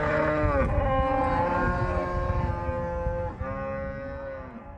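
A single cow or calf at a ranch calf branding gives a long, loud, drawn-out moo close by, its pitch wavering and sliding before it tapers off near the end.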